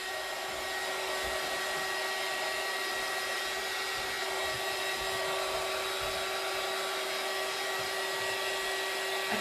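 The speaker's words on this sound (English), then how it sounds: "You could use a hairdryer for this." A hairdryer blowing continuously with a steady, loud, broad whoosh and a constant motor whine, close by, running alone for the whole stretch.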